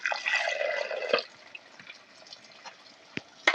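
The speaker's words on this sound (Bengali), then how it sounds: "দিয়ে সামান্য পরিমাণে একটু জল নিয়ে নেবো।" Water is poured in a short splashing burst onto spice paste in a pan while cooking paneer. It lasts about a second, followed by faint drips and small clinks in a quiet kitchen.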